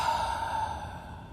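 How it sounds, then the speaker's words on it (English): A slow, deep breath drawn in through the nose and let out through the mouth during a guided meditation, soft and close, a single airy exhale fading gently with no talk over it. "Take a deep breath, inhaling through your nose and exhaling out of your mouth."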